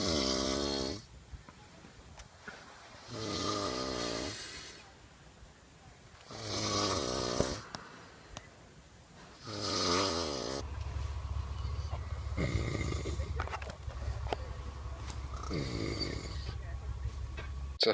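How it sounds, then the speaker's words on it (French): Loud, rasping snores repeat in slow cycles of long drawn breaths, close by, with a low steady rumble underneath, in Antarctica near the South Pole. "avec les ronflements de rigueur"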